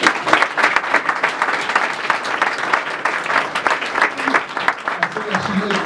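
Church congregation applauding and cheering in acclamation, a dense, steady wash of clapping with voices calling out throughout.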